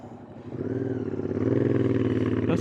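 Motorcycle engine running steadily while riding along a rough road, a close, loud droning hum with rising revs and a brief clatter near the end.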